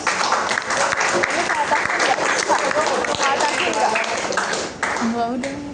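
A classroom audience at a high school claps steadily for a guest teacher, dense applause holding for several seconds before tapering off, with voices mixed into the crowd.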